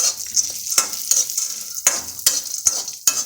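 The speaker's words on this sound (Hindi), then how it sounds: "यहाँ पर बादाम डाल दिया हमने, साथ में हम डालेंगे काजू और दोनों को ही भून लेंगे।" Almonds and cashews roasting in hot ghee give a steady bright sizzle, broken by several sharp scraping stirs of a spoon against the pan at irregular intervals, close and alone.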